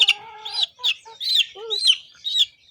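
Chickens and chicks clucking and peeping close by in quick, repeated, uneven calls with no one talking over them.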